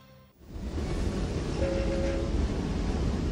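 A train rolls along steadily after a brief quiet start, a loud rumbling roar of wheels and carriages with a short horn-like tone partway through.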